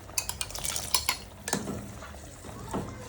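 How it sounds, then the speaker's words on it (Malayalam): Cooked sago being stirred into boiling ada pradhaman makes a string of close metallic clinks and scrapes of a spoon against the pot over a soft bubbling background. "ചേർത്തൊന്ന് ഇളക്കി കൊടുക്കുക."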